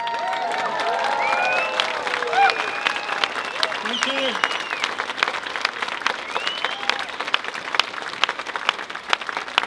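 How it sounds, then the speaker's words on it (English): Sustained audience applause fills a hall at a refugee-welcome event in Oxford, dense and steady for nearly ten seconds, with voices and some excited calls mixed in and a brief spoken thanks. "One more round of applause"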